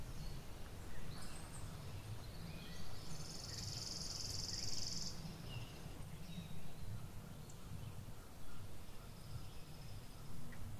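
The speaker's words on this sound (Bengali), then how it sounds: "পাখির আওয়াজ, জঙ্গলের আওয়াজ" Inside a hill forest in Kalimpong, a quiet ambience of insect chirring and occasional distant bird calls, with a brief high, buzzy trill standing out for a couple of seconds.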